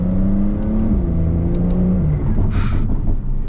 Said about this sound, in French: Par contre, t'entends les biturbo, ils soufflent hein.